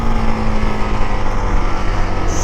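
A CF Moto 300 SR motorcycle engine runs at a steady pace while riding, a loud, close, continuous hum with a faint pulsing texture and no voices over it.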